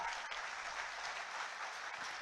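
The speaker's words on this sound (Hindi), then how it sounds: "तालियां आपकी ओर से जोरदार हो।" Steady, dense applause from a large crowd at a ceremony handing out appointment letters to newly selected assistant teachers, heard from a distance at an even level throughout.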